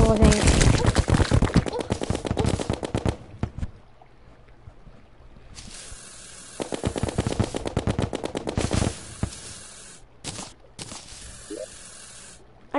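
Slime gun weapon in the video game Terraria firing in rapid sprayed bursts, loud and dense at first, then returning in a second stretch of spraying after a quieter gap, with game sounds around it.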